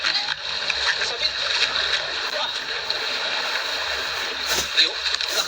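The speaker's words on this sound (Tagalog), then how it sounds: "Ayun, pumapasok ang tubig doon. Pag umaalon." Sea waves wash and splash against rocks along a shoreline, giving a steady loud rush of water with a sharper surge near the end, and voices talk over it.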